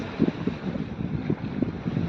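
Steady wind roars across the microphone on a close-hauled sailboat at sea, with low rumbling and gentle rhythmic water movement underneath and no speech.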